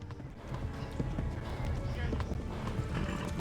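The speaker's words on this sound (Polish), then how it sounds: "Koń mi się męczy." A horse gallops in the medieval game Kingdom Come: Deliverance. Steady clip-clop hoofbeats drum on through the whole stretch under a dense layer of game sound and voices.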